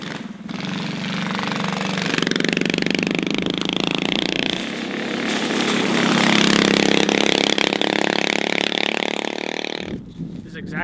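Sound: go-kart with cheap engine running

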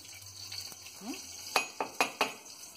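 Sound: ghee heating in pot with cardamom, stirring

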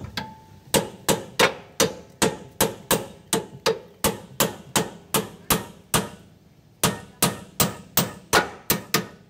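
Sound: hammering a clamp while replacing a broken spring

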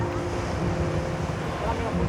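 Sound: sea waves and wind on Om Beach, Gokarna

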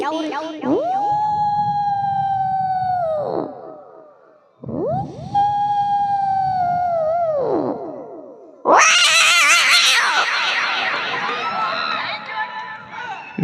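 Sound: voice imitating cats fighting at night

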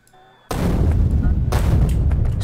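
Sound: grenade explosions clearing trees in Factorio video game

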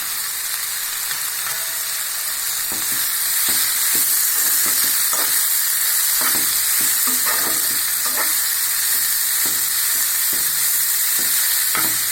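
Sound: carrots and beans stir-frying for noodles

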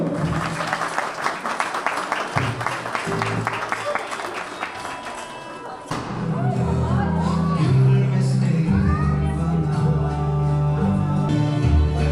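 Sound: applause

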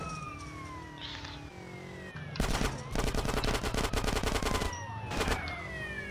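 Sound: M4 rifle gunfire in GTA San Andreas video game

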